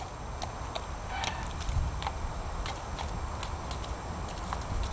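Hooves clip-clop steadily as a horse is trotted for a lameness gait exam, showing weak hind-limb engagement. The footfalls are clear and rhythmic, close by, over a constant background hum.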